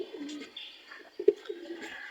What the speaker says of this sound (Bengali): মোটামুটি কবুতরগুলো ঝাঁক বাইন্দায় উড়ে, একসাথে উড়ে সব কবুতর